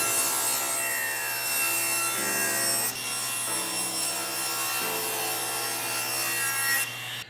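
A saw cuts through wood for the sides and back of a solar-powered house number box, a steady continuous rasping cut running for about seven seconds before stopping, close and fairly loud with no talk.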